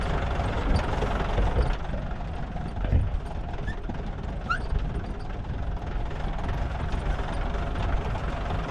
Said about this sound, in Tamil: கடைசியில் இதுதான் அந்த ஆஃப் ரோடு ஜீப் சவாரியாங்க